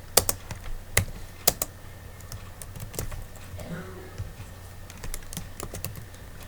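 Keys clack on a computer keyboard while code is typed for a JavaScript switch-case lesson, a run of sharp, irregular taps with a few louder strokes, close and alone with no talking.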